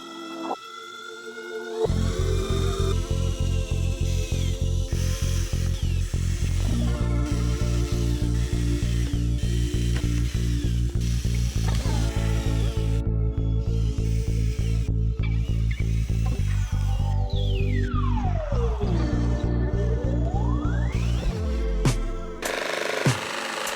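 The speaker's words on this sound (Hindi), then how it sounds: "चलिए इसको ड्रिल करते हैं।" Power drill boring holes into the top cover of a hand-built junction box enclosure, a loud steady whine with pitch sweeps and short pauses between holes, close and continuous without talk.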